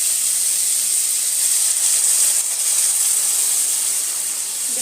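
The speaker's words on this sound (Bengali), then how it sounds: "এবার এর মধ্যে আমি জল দিয়ে দেবো।" Steady loud hiss of steam as water is poured into a pan of fried ridge gourd and potatoes, sizzling continuously without pause.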